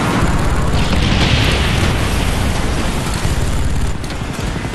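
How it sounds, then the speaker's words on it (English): A bomb strike in Call of Duty: Black Ops sets off a loud, sustained roar of explosions and rumbling debris, a dense wall of noise that fills the whole stretch before easing slightly near the end. "Bomb strike"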